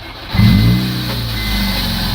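A 2003 Acura RSX Type S engine cranks and catches with a quick surge, then settles into a steady, loud idle close by.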